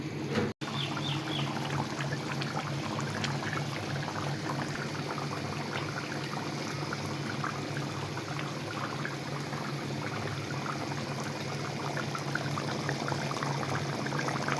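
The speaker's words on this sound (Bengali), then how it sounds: "আর আমি দুই তিন মিনিটের মতো একটু জাল দিয়ে নিব মাংসটাকে ঢাকনা দিয়ে ঢেকে" Spicy chicken simmers in a covered pot, giving a steady, close bubbling and gurgling that runs evenly throughout, with one brief click near the start.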